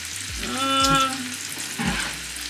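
A pan frying food while a bun toasts, giving a soft steady sizzle with a few stirring knocks, and a faint tonal squeak or voice partway through.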